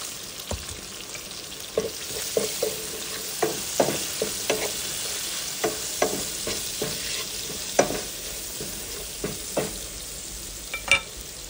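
Sliced potatoes fry in a pan with turmeric and salt, a soft steady sizzle broken by repeated close scraping clicks of a spatula stirring them, with no talking.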